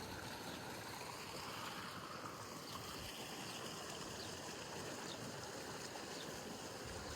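Filtered seawater flows steadily through an irrigation channel on a date farm in Saudi Arabia, a continuous broadband rush of moving water with no voices.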